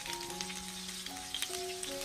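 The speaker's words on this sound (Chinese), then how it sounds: "我们也要用中小火慢慢的煎制，充分的把豆腐煎至金黄。" Tofu is pan-fried over medium-low heat until golden, giving a soft, steady sizzle close by, quiet under light background music.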